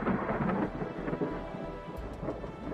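Thunderstorm with heavy rain and a deep, steady rumble of thunder, loud and continuous throughout, with the dense hiss of rainfall over the low roll.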